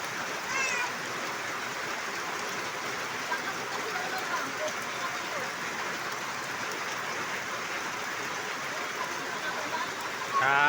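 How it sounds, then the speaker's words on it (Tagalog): Heavy rain pours in a constant, loud hiss from start to finish, with no break in the steady roar. "grabe, napagkalakas ang ulan"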